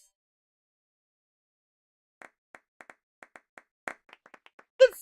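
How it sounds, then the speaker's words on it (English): Hand clapping of applause, a sparse run of single claps that starts after a few seconds of silence and speeds up slightly, close and fairly quiet. "It's applause time! Yay! Applause!"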